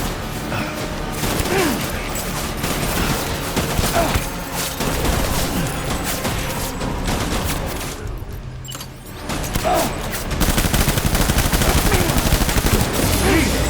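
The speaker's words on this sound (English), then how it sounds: "Shoot the motherfucker!" Dense bursts of gunfire rattle through a battle in the video game Death Stranding, loud and continuous with rapid automatic fire, booms and mechanical clatter, easing briefly before it intensifies again.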